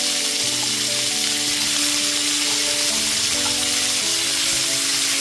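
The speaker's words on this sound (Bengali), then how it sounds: "সবজিগুলোকে পাঁচ মিনিট ধরে ভেজে নিয়েছি এরপর এতে কুমড়ো আর সিমটাকে দিয়ে দিচ্ছি" Pumpkin and flat beans fry in a pan of winter vegetables over a medium-high gas flame, giving a loud, continuous, close sizzle with a steady crackle throughout and no talk.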